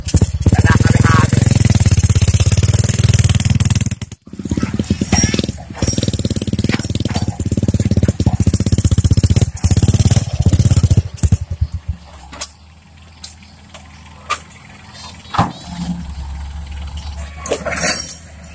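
A motorcycle engine runs loud and close in an outdoor comedy scene, with a heavy low rumble held for about twelve seconds before it drops away, leaving sporadic clatter and background noise.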